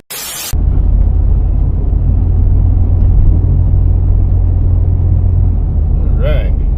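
A 1998 Jeep ZJ rolls through town, its road noise a loud, steady low rumble and tire roar filling the cabin after a brief burst at the start, with a short faint tonal chirp near the end.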